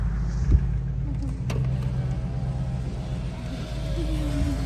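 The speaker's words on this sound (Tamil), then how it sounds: "சரி வந்துட்டு இருக்குது வண்டி" A desert safari vehicle grinds slowly over sand dunes in Qatar, a steady low engine rumble close by that holds its level throughout, with no speech.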